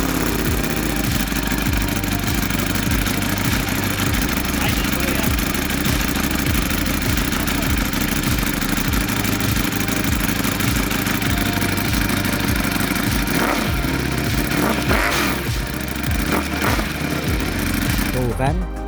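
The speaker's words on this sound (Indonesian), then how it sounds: "sekarang kita coba dengerin yuk gimana sangarnya suara mesin Ducati Panigale V4R ini" A Ducati Panigale V4R motorcycle engine idles and revs in a steady, loud mechanical rumble with rhythmic pulsing, continuous throughout with a brief burst of throttle late on.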